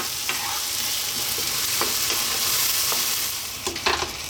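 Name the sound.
tomato arrabbiata sauce simmering and sizzling in pan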